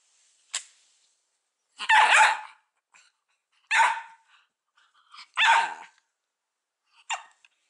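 A Bedlington Terrier puppy barks in loud, separate bursts, about five barks spaced a second or so apart, close by with silence between.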